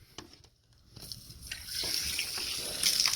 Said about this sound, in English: So I just tested it and it works, but there's a lot of water coming out of this thing here.